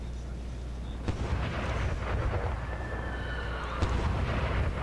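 Cannons fire in an American Civil War video game set at Wilson's Creek, with two sharp booms standing out over a constant loud rumble of battle noise and distant gunfire.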